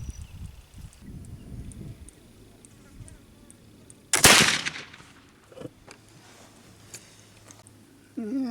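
A single loud, sharp shot rings out from a rifle loaded with homemade black powder, its blast trailing off into a quiet outdoor setting broken only by faint small noises before and after.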